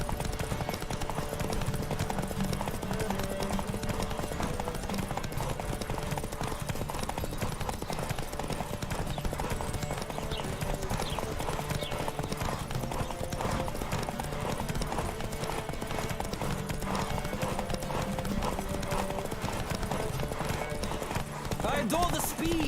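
Rapid, rhythmic hoofbeats of a galloping horse in The Witcher 3 drum steadily throughout, with a faint whinny and other game sounds in the background.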